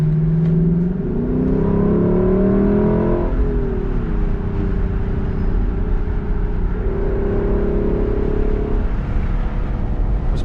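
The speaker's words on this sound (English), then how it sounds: "I'm surprised more people didn't comment on the exhaust blasting." Exhaust of a 2022 Lexus LC 500 Convertible in Sport Plus mode, loud and close as the engine revs and accelerates with rising then falling tones, a sustained throaty drone across the whole stretch with no talking.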